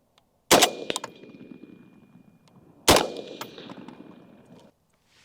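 Two sharp rifle shots at an outdoor shooting range, spaced a couple of seconds apart, each a loud close crack with a ringing tail and a faint clink, no talking.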